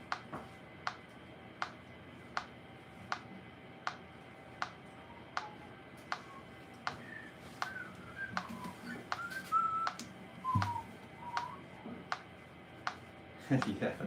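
A person whistles a wandering tune softly in a quiet room, faint and intermittent over a steady, regular ticking like a metronome, with some light background noise.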